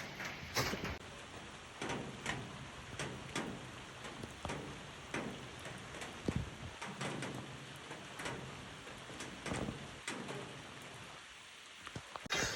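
Autumn rain falls outdoors, a steady patter of drops on surfaces with scattered louder close taps, unbroken through the whole stretch and with no voices.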